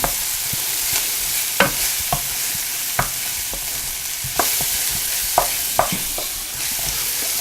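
Garlic and onions fry in a pan for a cauliflower rice mushroom and asparagus risotto, a steady close hiss of sizzling broken by sharp clicks and scrapes of a utensil stirring at irregular intervals, with no voices.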